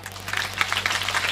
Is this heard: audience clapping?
yes